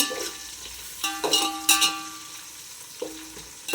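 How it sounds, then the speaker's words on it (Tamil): Tomatoes sautéing in a pan for mutton biryani on a lowered stove flame: a moderate sizzle with irregular bursts of stirring and scraping. "தக்காளி கொஞ்சம் நல்லா வதங்கட்டும் ஸ்டவ் கொஞ்சம் சிம்மில் வைக்கிறேன் நான்"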